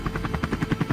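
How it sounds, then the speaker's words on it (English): A police helicopter in a video game, its rotor chopping in a fast, even rhythm of thuds, moderately loud and alone for about a second. "Police helicopter."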